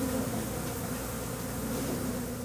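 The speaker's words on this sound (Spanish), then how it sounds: "miles de abejas llenaron el pequeño espacio del cuarto" Thousands of bees swarm inside a small room behind an opened wall, an exposed hive giving a steady, dense drone that holds evenly from start to finish, with no voices.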